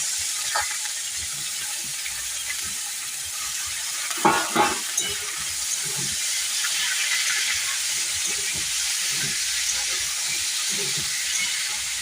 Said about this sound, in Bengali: এবার আমি আলুটা দিয়ে দিচ্ছি